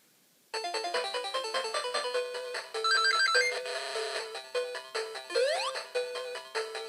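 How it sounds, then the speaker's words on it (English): Chiptune video game music from a Sega Game Gear's built-in speaker, bright square-wave melody and arpeggios starting after a brief pause and continuing steadily, fairly quiet and alone. "Beautiful crisp sound as well coming out of the console."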